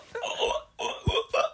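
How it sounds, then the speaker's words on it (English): Three short, sharp hiccups in a row, each a sudden vocal catch spaced about half a second apart, close and fairly loud, sounding a little like stifled laughter. "I got the hiccups."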